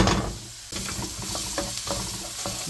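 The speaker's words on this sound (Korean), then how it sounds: "식용유를 약간 두르시고 다진 마늘을 먼저 넣으셔 가지고 마늘 향을 조금 내어 줍니다" Minced garlic sizzles in a little cooking oil, a loud, bright hiss that jumps up sharply at the start and keeps crackling steadily, with no talking.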